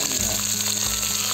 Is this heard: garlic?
yes